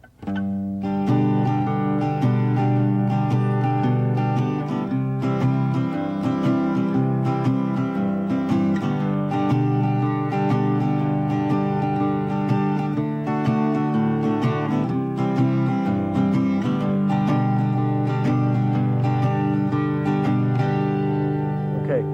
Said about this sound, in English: a little chord progression using some single bass notes in shuffle feel